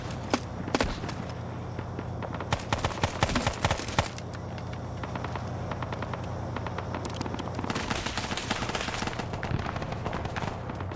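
Video game gunfire lays down suppressing fire in the Vietnam War: loud, rapid automatic bursts and scattered single shots crack close by over a steady low rumble, with dense clusters of fire near the start and toward the end.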